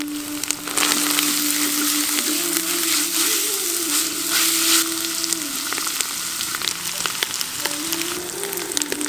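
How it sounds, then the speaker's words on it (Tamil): Onions are added to hot oil already holding garlic, pepper, cumin and curry leaves for horse gram rice, and they fry with a loud, close, continuous sizzle plus crackles and a faint steady hum underneath. "இப்ப பெரிய வெங்காயத்தை சேர்த்துடலாம்."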